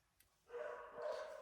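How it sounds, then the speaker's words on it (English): A dog indoors gives a drawn-out, wailing bark or howl, faint and somewhat distant, starting after a brief quiet and holding for about a second. "You hear that really horrible noise? That's my dog."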